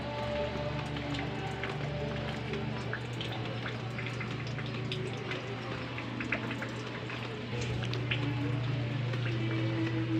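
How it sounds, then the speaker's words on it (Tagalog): Steady rain falls on potted plants in a home garden, a continuous dense patter with scattered drips, moderately close and unbroken for the whole stretch, with a low hum underneath and no talking. "umuulan for this time dito sa amin"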